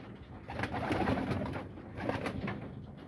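Pigeons released from a loft's release door coo and flutter nearby, a busy mix of soft calls and wing bursts that swells and fades over a few seconds.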